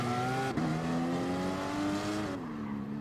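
Porsche Cayman Gr.4 race car in Gran Turismo Sport on cold tires, its engine holding a steady synthetic drone with a brief dip and gear change, alone without talk.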